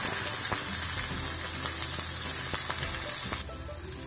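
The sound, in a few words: onion frying in oil, stirred in pan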